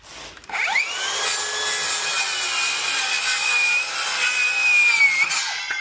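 A Bosch rear-handle circular saw rips through wood in a single steady cut lasting about five seconds, a loud whining blade with a rising spin-up at the start and a drop-off at the end.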